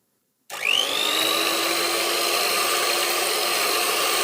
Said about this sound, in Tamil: கேக் ஜெல்லு இப்போ ஸ்லோ ஸ்பீடில் பீட் பண்ணணும்